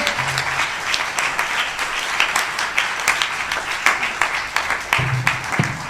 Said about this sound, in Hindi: तालियों की गूंज में इनका अभिनंदन हम यहाँ पर करते रहे।